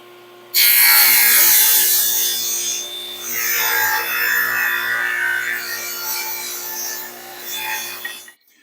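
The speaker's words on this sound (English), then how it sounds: "So let me go ahead and cut my 1 inch strips" Wood being sawn into 1 inch strips for a picture frame, a steady rasping cut running for about eight seconds, close and fairly loud, fading out at the end.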